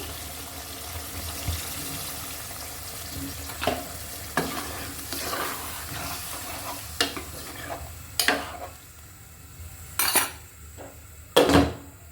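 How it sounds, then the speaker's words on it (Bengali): Eggplant curry in a pan on low heat as broth is added, a soft simmering sizzle broken by repeated clinks and scrapes of a spoon against the pan, growing louder and sharper toward the end, close with no talk. "এবার আমি ভালো করে ঝোল দিয়ে দিচ্ছি"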